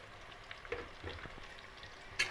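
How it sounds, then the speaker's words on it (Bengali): Onions, chili and salt fry in oil with tomato and are stirred, making a soft, quiet sizzle with a few gentle scrapes and one brighter clink near the end. "তারপরে পেঁয়াজগুলোকে একটু ঘেটে নেড়ে চেড়ে দেবো।"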